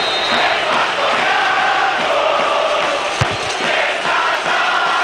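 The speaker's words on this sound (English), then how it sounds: "Crowd not happy with that late call." A PES6 video game stadium crowd reacts to a foul call with loud, sustained jeering and roaring, a dense wall of voices with one brief thump partway through.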